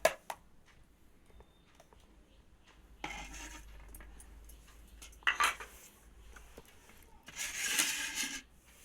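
Rice is served onto a metal plate at a home meal, heard as scattered clinks and scrapes of a spoon against the dish with a few sharper metallic knocks, close and fairly quiet against a soft background.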